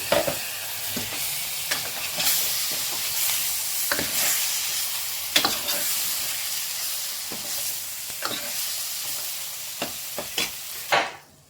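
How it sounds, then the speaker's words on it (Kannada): Cut boiled eggs fry in masala for an egg gravy: a steady, close hissing sizzle with repeated spoon scrapes and knocks against the pan, which then stop abruptly. "ಇದು ಇವಾಗ ಚೆನ್ನಾಗಿ ಸ್ವಲ್ಪ ಫ್ರೈ ಆಗ್ತಾ ಇದೆ ಮೊಟ್ಟೆ ಮಸಾಲೆಯಲ್ಲಿ"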